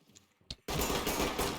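A loud burst of sustained rapid gunfire in the tactical shooter Ready or Not erupts after a few faint clicks and a single sharp crack, dense and continuous to the end.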